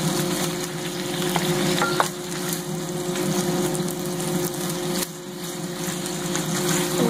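Marinated pork bistek sizzles steadily in a pan as it is stirred, a continuous close frying crackle with occasional utensil scrapes and no talking.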